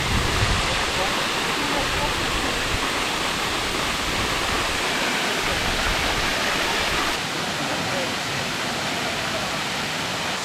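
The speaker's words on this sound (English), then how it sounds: "there are 7 waterfalls in total here" Waterfall at Erawan National Park in Kanchanaburi, Thailand, a loud, continuous roar of rushing water that stays broad and steady throughout, dipping slightly toward the end.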